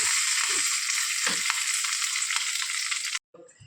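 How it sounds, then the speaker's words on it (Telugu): Dried chili sizzling in hot oil, a bright steady crackle close by with a few soft clinks, cutting off abruptly near the end. "ఒక ఎండు మిరపకాయ వేగనిద్దాం చిన్న తాలింపే"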